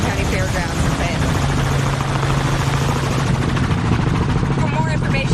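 A helicopter on an Arkansas Helicopters air tour drones steadily with a constant rotor and engine roar, loud and unbroken, with a voice talking over it.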